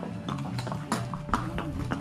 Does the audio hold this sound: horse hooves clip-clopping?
yes